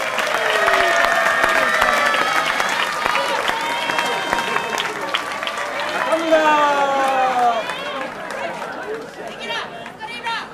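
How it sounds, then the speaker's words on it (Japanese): Applause from spectators at a women's sumo festival at a Chichijima shrine grand festival, clapping mixed with lively crowd chatter and voices calling out over it, fairly loud throughout. "もう一度拍手をお願いします"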